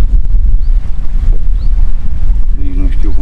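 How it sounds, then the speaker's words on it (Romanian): Wind buffets the microphone on a boat in the Danube Delta, a continuous loud low rumble with water slapping faintly beneath it and no voices. "vântul bate de la sud, sud-est oarecum"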